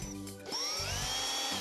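A power drill drives a screw into a drawer during flat-pack base unit assembly, with a short whine, a brief pause, then a steady close, loud motor drone with rising pitch sweeps as the screw seats.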